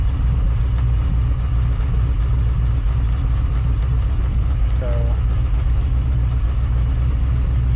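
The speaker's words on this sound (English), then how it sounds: "This is the first time this engine's been started today." A car engine fitted with a newly installed Jackpot TBI throttle body injection system idles steadily on its first startup of the day, a constant low rumble and whir running throughout with a person speaking briefly over it.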